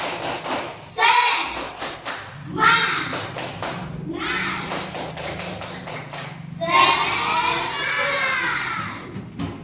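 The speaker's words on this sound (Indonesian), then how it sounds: "Tepuk semangat." Schoolchildren in a classroom perform a rhythmic spirit clap, patterned bursts of claps and table thumps mixed with chanting children's voices, repeated in several rounds.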